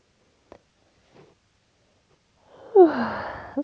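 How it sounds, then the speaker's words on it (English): A person in a restorative yoga session yawns, a long breathy open-mouthed yawn with a voiced rise that trails off, preceded by a couple of faint soft breaths in an otherwise quiet room. "That's like my third yawn."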